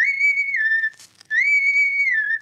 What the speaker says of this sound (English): Twice will I whistle like this.